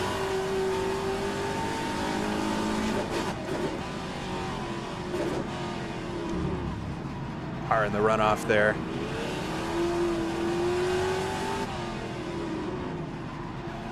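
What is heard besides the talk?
classic Trans-Am race cars at Adelaide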